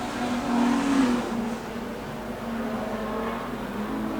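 Ford Falcon street stock race car running laps on a circuit: a steady engine drone that swells slightly early on and then holds even, fairly near.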